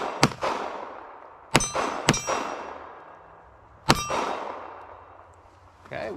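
A Ruger Security 380 pistol firing .380 ACP at steel targets outdoors. Five sharp, loud shots come at irregular intervals, each followed by a ringing metallic clang and a fading echo.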